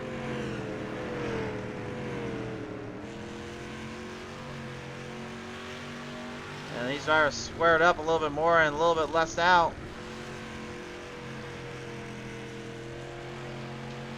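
Dirt street stock race cars rev and drone on throttle around Bristol Dirt Track, with a steady engine note and a short burst of pulsing revs midway, all heard faintly beneath continuous race commentary.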